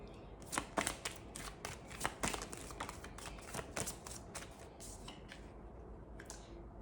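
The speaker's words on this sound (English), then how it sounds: "Thought I was shuffling them in reverse then" Tarot cards riffled and shuffled in quick bursts of crisp, papery flicks, close and fairly quiet, with brief pauses between the riffles.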